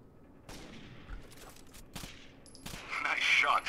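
Gunfire in the sci-fi shooter game Osiris: New Dawn, with several sharp shots scattered across a few seconds and an electronic whine rising toward the end.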